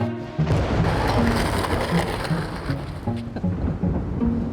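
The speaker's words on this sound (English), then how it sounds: "You see the dots on the lens? That means it's raining." Dense, constant patter of rain hitting a nearby surface, with low rumbling underneath and no speech.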